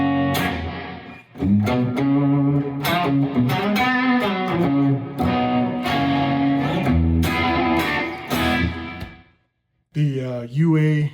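Electric guitar played through a UA Heavenly reverb pedal, sustained chords and notes ringing with a lush reverb wash, loud and close, breaking to silence before a final bright strummed chord.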